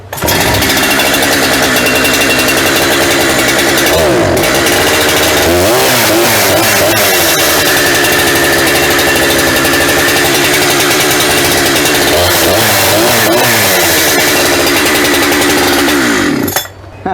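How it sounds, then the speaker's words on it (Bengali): A 75cc petrol tree-cutting machine engine running loud and close, a constant buzzing two-stroke drone with brief revving surges, then cutting off at the end. "আমি মেশিনটা সুইচটা অন করলাম পঁচাত্তর সিসি চালিয়ে দেখাবো"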